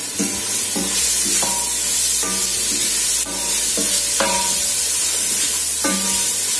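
Onions sautéing in oil in a pan give a constant loud sizzle, broken every second or so by the scrape and clatter of a utensil stirring them.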